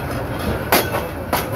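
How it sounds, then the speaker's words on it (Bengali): Kishoreganj Express intercity train standing at Kishoreganj railway station, a steady rumble of railcars with two sharp bursts of hissing or squealing noise, no voices. "আন্তনগর কিশোরগঞ্জ এক্সপ্রেস ট্রেনটি কিশোরগঞ্জ রেল স্টেশনে এসে দাঁড়িয়ে আছে।"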